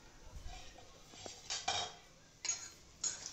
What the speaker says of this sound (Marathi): मिक्स करून घ्यायचं आहे, तेलामध्ये परतून घ्यायचं आहे चांगलं.